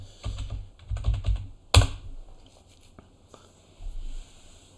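Someone types a git clone command on a computer keyboard, close and crisp, with quick bursts of key clicks, brief pauses between them and a sharper single keystroke near the middle.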